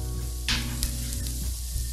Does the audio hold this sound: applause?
no